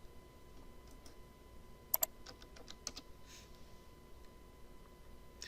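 Keystrokes on a computer keyboard entering a short command, a handful of sharp clicks clustered together with one louder pair, over a quiet room hum with no talking.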